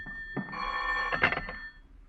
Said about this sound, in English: your nervous pacing is interrupted by the ringing of the telephone.